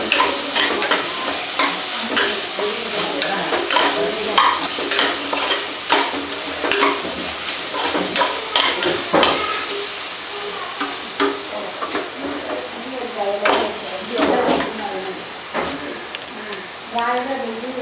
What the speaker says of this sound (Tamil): அடுத்து கரம் மசாலா பவுடர் இது வந்து ஹோம்மேட் கரம் மசாலா பவுடர் இதை நல்லா ஒரு ஒரு நிமிஷம் வசக்கிக்கோங்க